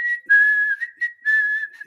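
A person whistles a clear, steady melody, a rock ballad, in a few sustained and gently wavering phrases, close and prominent with no talk over it.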